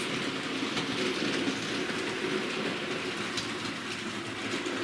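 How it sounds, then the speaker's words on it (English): A model railway locomotive running round its track, giving a continuous, even rolling rumble with a faint clickety-clack over the rails, heard alone with no voices. "So we'll bring out another locomotive."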